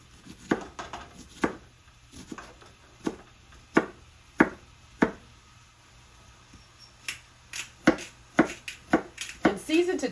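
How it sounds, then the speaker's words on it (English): Onion chopped on a cutting board in a home kitchen, with a steady series of sharp knife taps, some quick clusters, close by and under a person talking. "I chop up some onion most of the time"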